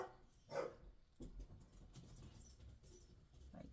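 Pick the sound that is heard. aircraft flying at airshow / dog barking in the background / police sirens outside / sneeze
dog barking in the background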